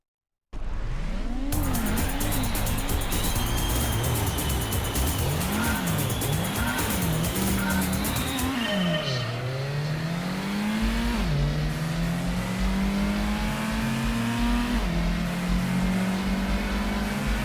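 A race car engine in Gran Turismo revs loudly and closely, climbing repeatedly through the gears in rising sweeps, then settling into a long sustained high-rpm drone with tire squeal, no talking over it.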